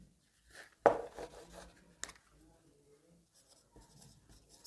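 A pen scratches across paper in a few short, close strokes, with one sharp tap and softer scraping between, while a person talks quietly in the background.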